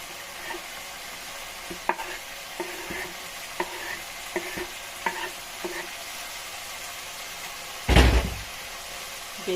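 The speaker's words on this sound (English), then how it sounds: "So now I'm going to add the vegetables." Vegetables go into a bolognese sauce frying in a pan, with a soft steady sizzle under scattered scrapes and taps of a spoon stirring, then a loud thud or clatter near the end.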